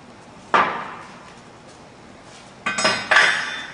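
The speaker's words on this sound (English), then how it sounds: "With your alignment tool, remove the pin, lightly tap on it." An alignment tool taps a connecting rod drive pin out of a disassembled pump: one sharp metallic tap, a pause, then two more close-together ringing clinks, close and clear in a quiet room.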